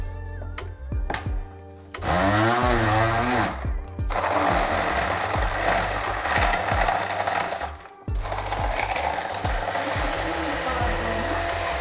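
A kitchen blender whirs loudly, mixing strawberry dalgona coffee in bursts, the motor pitch rising and falling between pulses with brief pauses around four and eight seconds.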